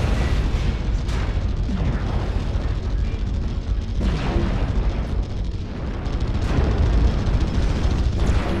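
Missile explosions boom and rumble through a MechWarrior Online battle, a dense, continuous barrage of heavy blasts and bursts with no break across the whole stretch.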